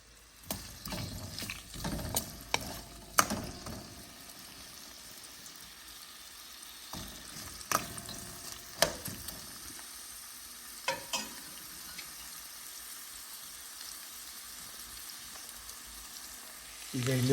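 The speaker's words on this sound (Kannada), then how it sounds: "ಒಗ್ಗರಣೆ ಮೇಲೆ ಉಳ್ಳಾಗಡ್ಡಿ ಹಾಕಿ ಕೆಂಪಾಗುವಂಗೆ ಮಾಡಿರ್ತೀನಿ" Onion frying in tempering oil for Karnataka-style sambar gives a faint, steady sizzle, broken by scattered clinks and scrapes of stirring, louder at the start and quieter later.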